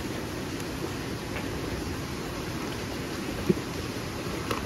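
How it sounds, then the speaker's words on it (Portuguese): Light rain falls steadily outdoors on a hot day, a dense even hiss with occasional faint drips and no speech. "tá caindo uma chuvinha gostosa agora. Tava um calor e agora tá chovendo"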